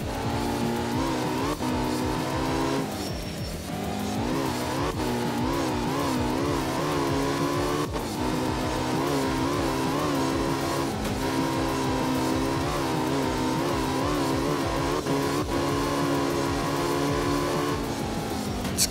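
A rally car in a wet Japan stage of a video game drives with a sustained engine drone whose pitch rises and falls through gear shifts and corners, with occasional tire noise, continuous and close.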